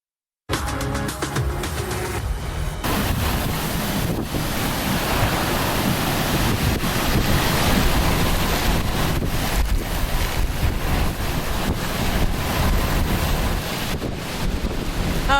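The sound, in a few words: tropical storm wind, rain and ocean waves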